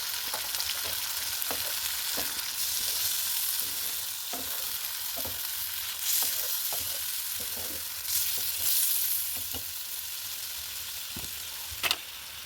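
Coconut milk poured into a pan of prawn malai curry sets off a steady loud sizzle and bubbling, with occasional spoon scrapes and stirring clicks over the frying hiss.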